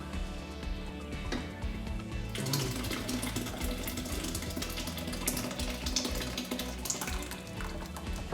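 A steady stream of black bean soup splashing and trickling back into a pot, continuous and close, with a brief clatter near the start.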